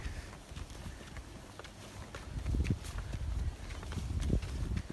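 A donkey's hooves clop steadily on the ground while pulling a loaded wagon of about 400 pounds, with irregular footfalls, rattling and creaking under a constant low rumble.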